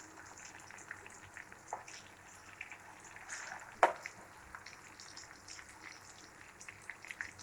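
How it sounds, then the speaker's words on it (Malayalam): Fish pieces fry in hot oil for a Kerala fish pickle, giving a soft, steady sizzle with scattered pops and one sharper crackle midway, close and moderate, with no voices. "നമ്മുടെ മീനൊക്കെ നന്നായിട്ട് മുരിഞ്ഞ് വരണം"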